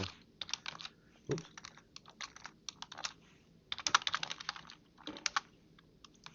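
Rapid, uneven keystrokes on a computer keyboard while text is entered into a Word document, with close, crisp taps that pause briefly and then resume in quick clusters.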